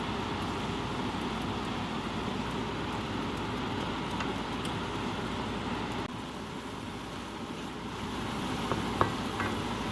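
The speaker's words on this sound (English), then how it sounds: "Now just dump everything onto non-stick pan and we start stir frying." Steady, dense sizzling and crackling of vegetables stir-frying in a hot non-stick pan, continuous and fairly loud throughout, with faint scraping of stirring and no voices.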